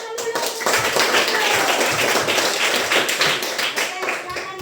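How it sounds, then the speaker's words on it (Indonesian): A classroom of students claps hands together in a dense, steady burst of overlapping claps, close and loud, with voices faintly mixed in. "Tepuk tangan dulu."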